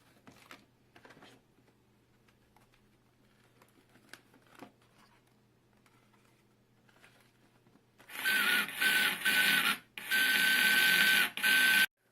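A small motor in an electronic puzzle switches on and runs with a loud, buzzing whir in several bursts separated by brief gaps, after a quiet stretch of faint clicks.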